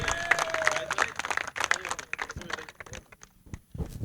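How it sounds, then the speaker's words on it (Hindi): Scattered clapping from a crowd at the final ceremony of a local cricket tournament, honouring the winning team, with uneven bursts of hand claps and some background voices. "तो तालियां वासा टाइगर्स की टीम के लिए।"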